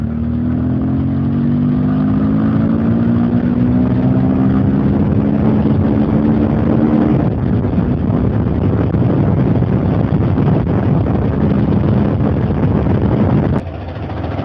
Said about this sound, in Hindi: तो भाई साहब कैसी लग रही है आपको यार गाड़ी की वॉइस